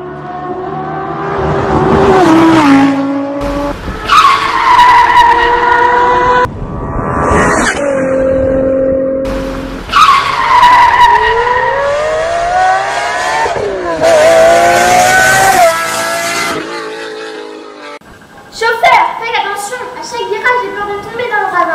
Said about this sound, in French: Un chauffeur de taxi roule un peu vite.